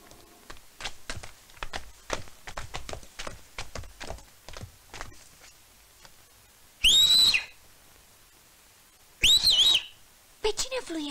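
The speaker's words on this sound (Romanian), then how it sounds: "Pe cine fluieri?" A person whistles in a mountain setting, two loud, sharp bursts of whistling after a run of quick clip-clopping hoofbeats, followed by a brief third whistle.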